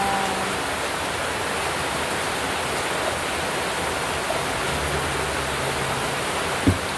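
Heavy rain pours outside onto floodwaters, a dense, unbroken roaring hiss at close range with a faint low rumble late and one brief knock near the end.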